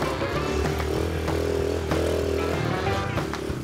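A small pit bike engine buzzes steadily on a figure eight track, a continuous droning motor hum with slight pitch shifts, moderately loud and mid-distance.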